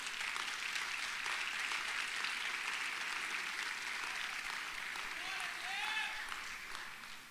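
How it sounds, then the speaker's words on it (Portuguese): An audience applauds continuously at a church conference, a dense wash of clapping that holds steady for several seconds before tapering off, with a faint voice briefly audible near the end. "Pode aplaudir, pode aplaudir, pode aplaudir"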